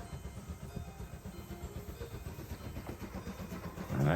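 A train passing during train spotting, a steady low rumble with rhythmic wheel clatter that swells louder toward the end.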